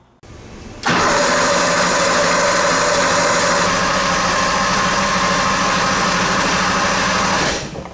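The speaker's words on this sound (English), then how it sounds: "we'll crank the engine over, build up some oil pressure, and build a fire in it" A 1977 Porsche 911 Turbo engine cranks briefly, then fires up loudly on its first start after a rebuild and settles into a steady, close idle that runs for several seconds.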